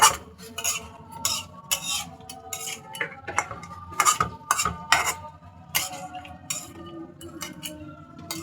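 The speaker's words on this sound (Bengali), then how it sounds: "এখন আমি চিংড়ি মাছের হাত পা মাথা যা আছে সব আমি এখন মশলার সাথে ভালো করে মিশিয়ে নিচ্ছি" Prawn heads and legs being mixed with spices in a metal pot, a close series of clinks, scrapes and knocks from a spoon in an irregular rhythm, fairly quiet with no talk.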